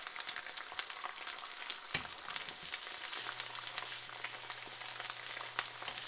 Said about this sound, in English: And look at those eggs cook.